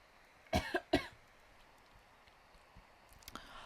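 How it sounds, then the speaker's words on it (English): Two sharp coughs close together near the mic, followed by quiet room tone and a faint rustle. "hold on, I got cough"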